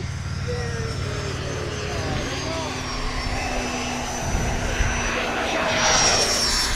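Low pass by an E-flite F-16 model jet at a model aviation day event, a steady engine whine building louder as the plane approaches near the end, over outdoor background noise and a passing voice.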